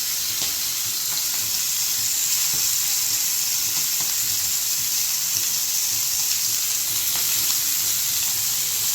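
Marinated chicken shallow fries in hot oil, giving a loud, dense, continuous sizzle up close that holds evenly with no talk over it.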